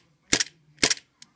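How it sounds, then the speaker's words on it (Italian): An HG 192 airsoft blowback pistol fires two sharp, close cracks about half a second apart, each with a quick slide snap, followed by a small click. "Vediamo se la pistola spara."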